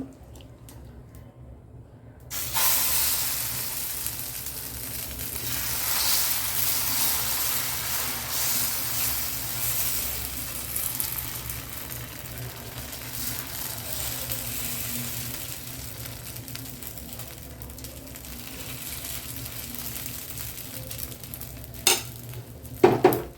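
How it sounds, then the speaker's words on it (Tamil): Millet (kambu) adai batter hitting a hot griddle stone bursts into a loud, steady sizzle after a quiet opening, slowly easing off over time, with a few sharp utensil clinks near the end. "இப்போ நம்ம கல் சூடாயிடுச்சு அடை ஊற்றிடலாம்"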